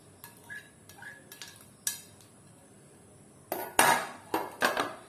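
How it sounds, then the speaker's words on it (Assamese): Chopped potatoes, finely cut green chilies and mint leaves are mixed in a bowl for crispy potato pakoras, with a few light clinks early on, then a louder burst of scraping and stirring near the end. "এতিয়া মই এইখিনি ভালদৰে সানি ল'ম।"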